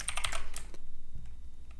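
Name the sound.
typing code on a computer keyboard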